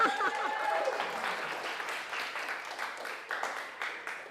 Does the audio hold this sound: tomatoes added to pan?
no